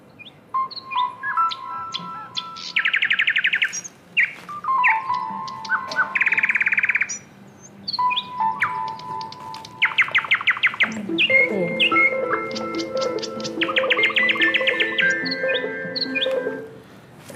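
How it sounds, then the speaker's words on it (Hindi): Various birds chirp and sing together, with a steady stream of overlapping whistles, trills and sharp tweets, some near and bright, others softer, continuous throughout. "विभिन्न चिड़ियों की आवाज जैसे होती है। चलिए सुनते हैं।"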